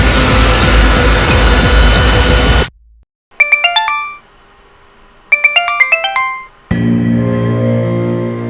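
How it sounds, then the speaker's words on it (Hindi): Electronic phone ringtone playing in two bursts of rapid rising tones, each followed by a pause, with loud broadband noise before and after. "कौन बार बार फोन कर रहा है?"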